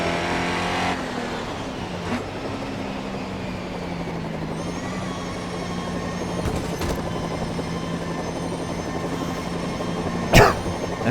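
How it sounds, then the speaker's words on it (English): A helicopter in the GRID Autosport racing game, heard as a steady droning rotor and engine tone blended with a V8 Holden race car's engine noise. It continues throughout at a fairly constant level, with no talking. "And bloody helicopter."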